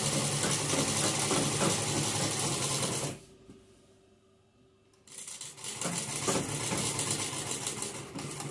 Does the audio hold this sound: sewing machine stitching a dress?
yes